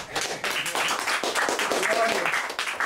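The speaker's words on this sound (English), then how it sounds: "So round of applause." An audience claps together in a steady, dense patter of applause that carries on throughout, with voices mixed in.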